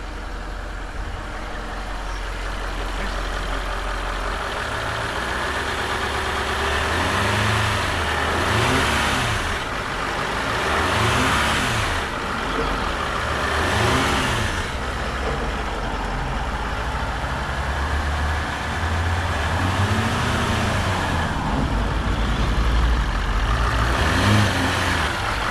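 A Range Rover L405 engine after a throttle body swap revs repeatedly, the rising and falling engine note swelling several times over a steady idle, close by with no talk.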